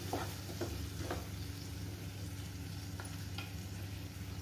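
Finely chopped tomatoes are stirred in a pan over a quiet, steady sizzle, with a few soft scraping strokes near the start and again later.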